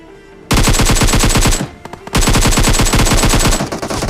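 Loud, close automatic gunfire in a battle royale video game, with two sustained rapid bursts separated by a brief gap, the shots hammering in a fast steady rhythm.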